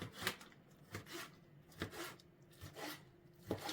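A knife cuts herring into thin strips on a board for a beetroot salad. Soft, faint taps come at an even, unhurried rhythm, with no talking.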